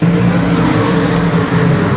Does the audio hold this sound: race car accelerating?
yes